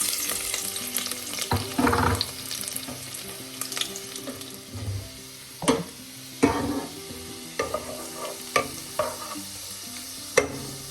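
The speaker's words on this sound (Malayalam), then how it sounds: "ഓയിലും ചൂടാകുമ്പോൾ ചെറുതായി അരിഞ്ഞ വെളുത്തുള്ളി ചേർക്കാം." Finely chopped garlic frying in about a tablespoon of hot sunflower oil for egg vegetable rice, a close, busy sizzle broken by repeated spoon-stirring scrapes and clinks.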